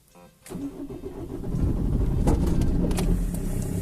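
A diesel Opel Corsa 1.3 CDTI on a cold morning is cranked for a long stretch by the starter, then catches and settles into a rough, uneven idle with a lumpy, misfiring rhythm. It sounds close and loud, with no talking.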